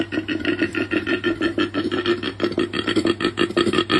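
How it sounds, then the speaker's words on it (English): A koala gives a deep, rasping, snoring bellow of fast rhythmic pulses that runs without a break. It sounds close and loud, with nothing else heard. "This is a koala. This is how it sounds."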